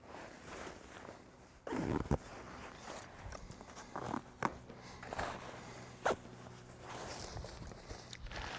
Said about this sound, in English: I'm going to keep working up these zippers to help with to contain everything that I place in.